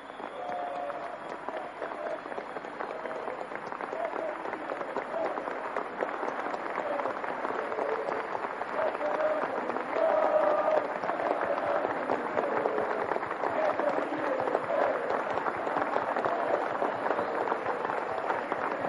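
A large crowd applauds at an outdoor political event in Ezeiza, Argentina, steady dense clapping and cheering sustained throughout at moderate loudness.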